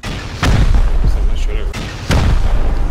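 Rocket explosions tearing apart a base in the video game Rust, two loud close blasts with heavy low rumble and a smaller pop between them, over steady game noise.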